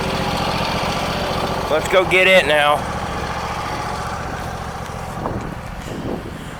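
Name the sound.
Husqvarna lawn tractor engine idling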